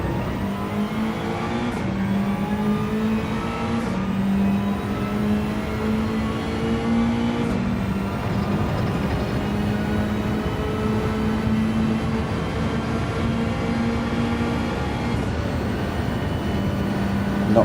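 Car engine in Gran Turismo 7 during an online lobby race, droning steadily and continuously at high revs with slight pitch shifts, loud and up close, with no talk over it.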